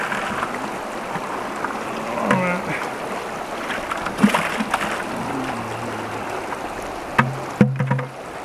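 River water rushing through a sluice box used for gold prospecting, a steady close wash and gurgle with a few louder splashes and knocks near the end, with no talk.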